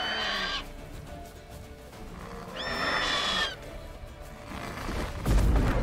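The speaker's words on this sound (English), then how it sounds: "Well, there goes some wild horses." Wild horses in The Witcher 3 neigh and whinny loudly over open-field game ambience, two or three shrill calls in a row followed by a low thump.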